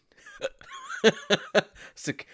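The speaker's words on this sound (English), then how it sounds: "these hiccups are just got me all frustrated now" Several sharp hiccups come in quick, uneven succession from a nearby voice, loud and close, mixed with breathy, giggle-like sounds.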